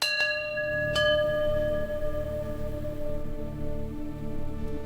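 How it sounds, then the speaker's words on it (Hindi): A metal temple bell rings out twice, with a long ringing tone that slowly fades under a low background hum. "अचानक घंटी अपने आप बजने लगी"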